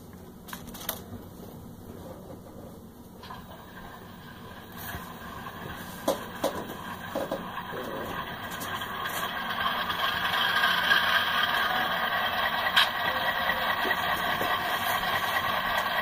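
An HO scale Lehigh Valley F unit model locomotive plays its onboard diesel engine sound, a faint, steady low hum that grows slightly louder, with small clicks and clatter on top.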